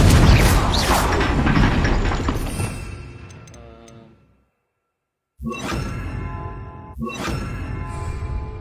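Confringo blasting curse explosions in the Hogwarts Legacy video game: a long, loud roaring blast that fades into silence, then two sharp, crackling bursts that each hit hard and then ring on.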